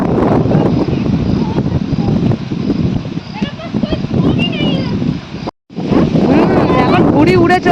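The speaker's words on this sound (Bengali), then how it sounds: "ওরে হেভি হাওয়া" Strong gusty wind from a Kalbaishakhi storm buffets the microphone in a loud, continuous roar, with voices talking over it and a brief dropout near the end.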